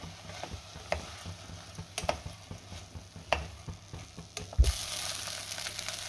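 Soaked rice sautéed in oil in a pan for chicken rice, a soft continuous sizzle broken by scattered ticks and light scrapes of a spoon, growing a little louder near the end.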